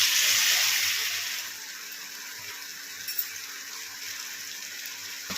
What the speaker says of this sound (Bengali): অল্প একটু জল দিয়ে আরও একটু মশলাটা কষিয়ে নিই